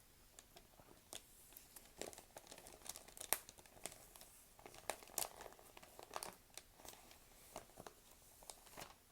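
Paper crinkles and rustles softly and close up as it is handled, with scattered sharp crackles and small crumpling bursts spread irregularly over a quiet background.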